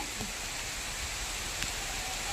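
Steady, dense hiss of rain falling continuously, with a few faint drips and knocks standing out against the wash.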